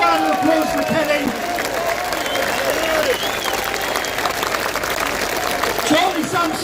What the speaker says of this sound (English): let's have a round of applause for Kelly.